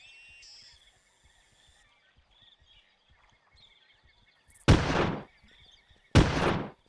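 Two loud, sharp sniper rifle shots in Carnivores Legacy, spaced about a second and a half apart and each trailing a brief rumble, after quiet outdoor ambience with faint chirps.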